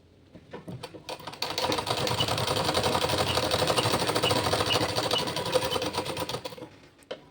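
A sewing machine stitches a blouse, running in one steady, fast-rattling burst for about six seconds after a few short starts, then stopping. No one speaks.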